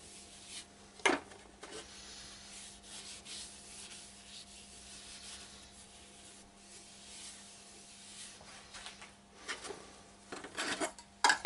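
A rag rubbing wax onto a scorched ash wood bowl, a soft, steady close-up swishing friction under a faint hum, broken by a few sharper knocks and handling clatters near the start and end.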